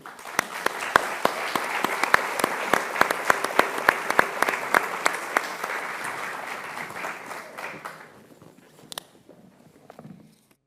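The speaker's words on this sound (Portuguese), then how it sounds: "Uma salva de palmas," An audience at a cultural event in Porto gives a round of applause, dense, fairly close clapping that runs strongly for about eight seconds, then thins to a few scattered claps and fades.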